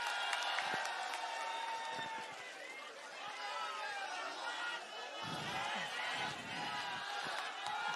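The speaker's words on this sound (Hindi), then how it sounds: "जोरदार तालियां हो जाए संजय सिंह जी के लिए" Dense crowd noise at a political rally in India, with steady cheering, chatter and scattered applause sustained throughout at a fairly even level.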